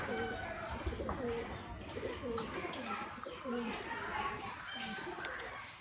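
Pigeons cooing in a loft among Haifa and other fancy breeds, repeated soft coos overlapping from several birds at close range, under steady background noise, with a voice speaking over it.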